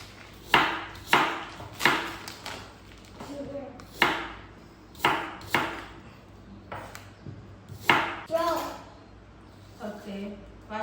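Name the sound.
chopping apple into cubes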